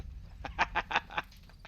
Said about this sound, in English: I've never tried shooting at a bird until just now.